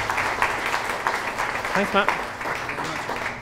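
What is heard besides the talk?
audience applause for a speaker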